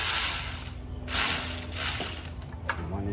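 A ratchet fitted with a 1/4 inch swivel and a 15 mm socket clicks through a few quick strokes between pauses while working on a Chrysler 300 5.7 condenser, close and crisp.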